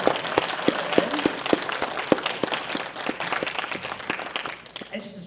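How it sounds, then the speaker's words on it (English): A convention panel crowd at Comic Con Revolution Ontario breaks into loud, dense clapping and cheering that gradually thins and fades toward the end. "Let's give everybody a big round of applause."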